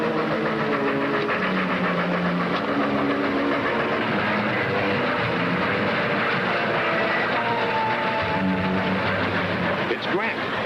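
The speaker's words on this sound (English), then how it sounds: "The train's going straight through." A train rolls through steadily in a 1951 railroad adventure film, with continuous loud engine rumble and wheel clatter, layered with voices and music throughout.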